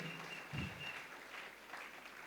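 A church congregation applauds in a steady, even patter of many hands, filling the space at moderate distance with a brief low voice-like swell near the start.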